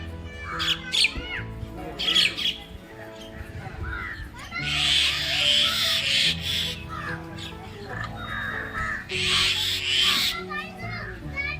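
Crows caw in harsh bursts in an Indian village, several calls rising over a busy background of children and people talking nearby.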